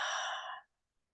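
A single long, breathy exhale during a meditation breathing exercise, close and soft, fading out after about half a second into silence.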